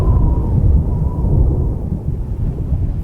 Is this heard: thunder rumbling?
yes